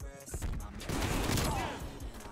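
Rapid blasts from a Street Sweeper shotgun in Call of Duty Black Ops, a loud, dense string of close shots rolling into one another with a booming low end.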